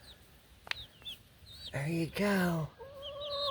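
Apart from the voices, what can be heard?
chicken clucking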